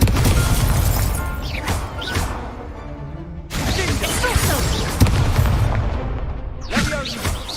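A Confringo fire spell blasts in Hogwarts Legacy on PS5, landing as loud bursts and crashes amid a busy magical duel, with sharp impacts near 3.5 and 5 seconds over dense game noise.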